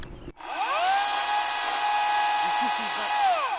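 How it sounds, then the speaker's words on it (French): Battery-powered lithium electric chainsaw with a self-sharpening chain, switching on abruptly and spinning up into a loud, steady high-pitched whine. The chain runs close and continuous before slowing slightly near the end, with a brief voice underneath. "Il suffit d'actionner ce levier et ça taille la chaîne."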